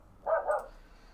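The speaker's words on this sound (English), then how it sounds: "Dog is annoying me." A single dog bark, short and moderately loud in an indoor room, with no talking.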